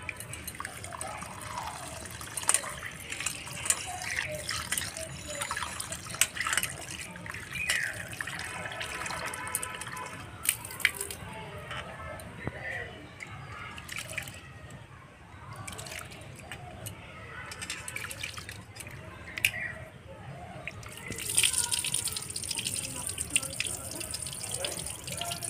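Rice being washed with water for egg pulao, with running tap water, splashing and dripping in a sink, close and moderately quiet, continuing steadily with brief clinks and a voice at times.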